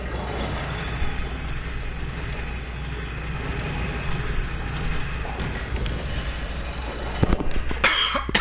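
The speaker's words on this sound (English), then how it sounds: "be considerate and not cough on the mic." Close to the microphone, a person lets out a few sharp coughs near the end, breaking through a steady low background hum.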